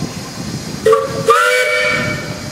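A 1916 Case 50 horsepower steam engine sounds its whistle at a parade: two short, bright tooting blasts over a steady hiss of steam.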